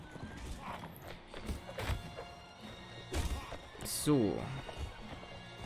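Horses gallop through a tournament in Mount and Blade Warband, hooves thudding in uneven bursts alongside crashes, impacts and a whinny, with someone talking over the action.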